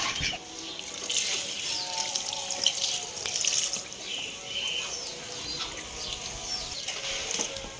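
Water pours and splashes steadily over an injured animal that was bitten or attacked, a close running, trickling sound with faint bird or chicken calls in the background.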